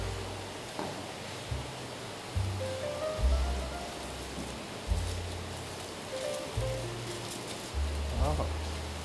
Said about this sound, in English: there is a monsoon thunderstorm going outside